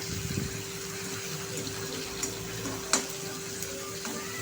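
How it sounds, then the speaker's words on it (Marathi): Crushed green chilli and garlic sautéing in a pan for lemon masala Maggi, a dense, even close sizzle with a couple of light stirring clicks. "इथे मी मिरची ठेचून टाकलेली आहे। आता आपण ती छान अशी परतणार आहे"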